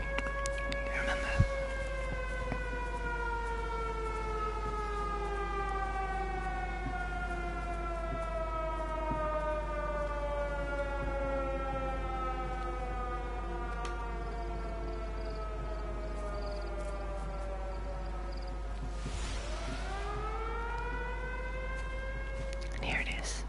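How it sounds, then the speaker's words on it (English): Air raid siren in the video game Everybody's Gone to the Rapture, wailing steadily across the whole stretch with a long falling glide, then dipping and rising again near the end, heard alone without talk. "this is the air raid siren thing that Howard was talking about before."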